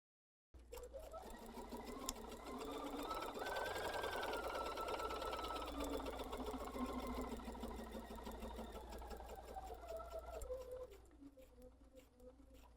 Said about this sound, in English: And I'm just going to start sewing on there and pivot.